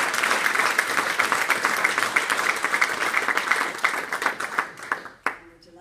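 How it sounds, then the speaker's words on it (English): An audience applauds for a library event's organiser, dense clapping holding steady for about five seconds before breaking off abruptly, with scattered claps and a voice starting up at the end. "So just ask you for a clap for Jeanette."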